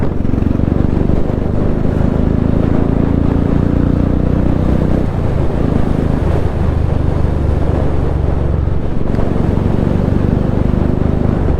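A new Royal Enfield Bullet motorcycle ridden at high speed, around 100, gives a steady, close engine drone blended with constant wind rush across the whole stretch, with no talking.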